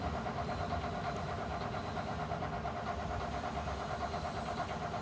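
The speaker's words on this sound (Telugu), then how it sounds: "క్లాత్ అనేది లెగవకుండా ఉండటానికి మళ్ళీ పై కుట్టు అనేది స్టిచ్చింగ్ చేస్తున్నా" A sewing machine top-stitching a blouse seam runs as a steady, continuous mechanical whir for the whole stretch, even and fairly quiet with no breaks or talk.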